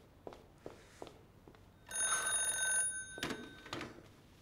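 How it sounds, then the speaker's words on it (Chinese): An old-fashioned telephone bell rings in one loud, shrill burst, preceded by a few soft knocks and followed by faint bumps in a quiet room. "我先接电话"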